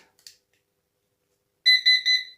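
A Victor NM-3024 solar inverter control board gives a short electronic beep after a tiny click, then three quick high-pitched beeps in a row, clear and close in an otherwise quiet room.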